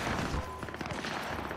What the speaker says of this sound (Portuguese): Vamos dar um tiro aqui.